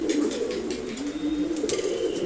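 Pet pigeons coo steadily from close by, a continuous low throaty burble that swells and falls without pause, with faint higher chirps and rustles behind.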